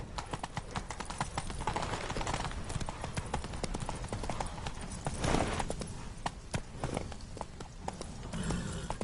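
Horse hooves clip-clopping in a fast, steady galloping rhythm throughout in the video game The Witcher 3, loud and close over a constant background rumble.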